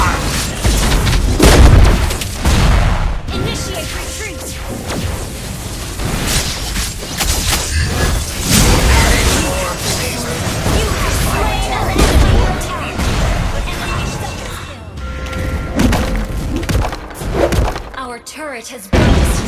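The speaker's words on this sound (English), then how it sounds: "Turret has been destroyed." Explosion of a destroyed turret in the mobile game Mobile Legends, a loud boom inside dense game audio with battle effects and an announcer voice throughout.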